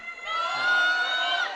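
Vocal crowd cheering and whooping in support of a female weightlifter on her third attempt at a lifting competition, a loud sustained roar that swells after a brief moment and holds steady.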